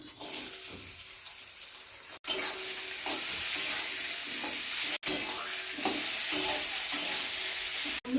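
Vegetables fry in white oil in a wok with a loud, continuous hiss and sizzle. The sound stays close and steady, with a few abrupt cuts and no talking.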